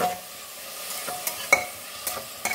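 Onions frying with salt in a pan for a mutton curry, a soft steady sizzle broken by a few sharp scrapes and clinks of stirring, close and fairly quiet with no talk.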